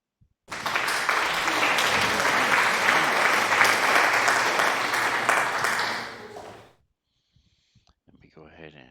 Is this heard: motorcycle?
no